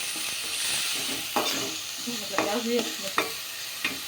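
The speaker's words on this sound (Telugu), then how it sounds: "ఇది కూడా పచ్చి వాసన పోయేంత వరకు కలుపుకోవాలా" A spoon stirs ginger-garlic paste through a paneer masala curry in a pan, with soft sizzling underneath and several distinct scraping strokes against the pan, close and clear.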